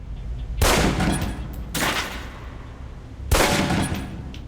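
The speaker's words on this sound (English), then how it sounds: "Equip the pistol, then aim down range and take some shots at the target" Three loud, separate pistol shots fired at a target on a range in the video game Alpha Protocol, each a sharp crack with a decaying tail, spaced irregularly over a few seconds.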